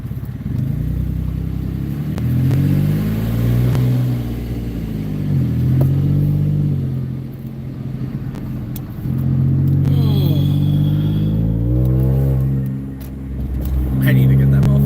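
A Corvette C6 with a loud damaged muffler, its engine rumbling and revving in waves, close and loud, while people talk over it.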